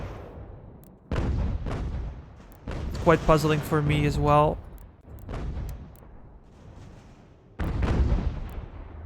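Mortars and cannons fire in Ultimate General: American Revolution during the invasion of New York, with several deep, booming blasts spaced a few seconds apart, each rolling off into rumble, while someone talks over them.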